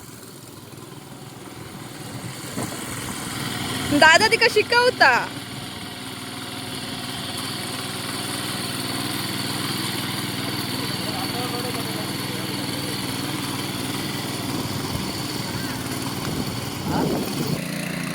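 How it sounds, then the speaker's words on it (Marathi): A tractor engine runs steadily on a farm while a woman learns to drive it, a continuous mid-level drone throughout with a louder burst early on, and people talk over it. "ती आता ट्रॅक्टर चालूक शिकता."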